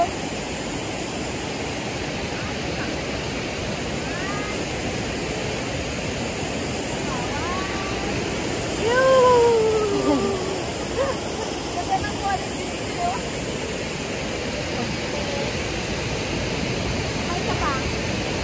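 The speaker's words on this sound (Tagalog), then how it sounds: "Galing sa bundok yan at tubig sa bundok" Mountain water flows steadily in a full, hissing rush, like a stream or small waterfall. It holds at the same level throughout, close and constant, with faint voices and a few birdlike whistles drifting over it.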